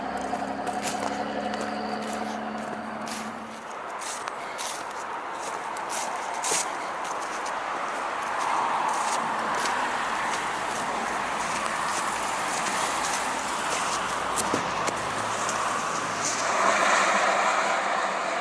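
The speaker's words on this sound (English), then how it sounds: "And we can hear the traffic at Shawnigan Lake Road." Road traffic on Shawnigan Lake Road heard from a nearby rail line: a broad, steady rumble of passing vehicles that swells and fades, with crunching footsteps close by.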